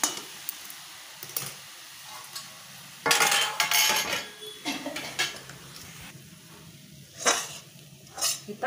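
Paneer and sugar modak mixture scraped and stirred out of a pan onto a plate, with quiet sizzling underneath and bursts of metal spoon scraping and clinking against the pan, close by.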